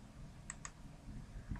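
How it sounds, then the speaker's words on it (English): Two quick, faint clicks come from a computer keyboard during a spreadsheet calculation, close together and barely above a quiet background hum. "take the average up here and then hit the minus on the keyboard"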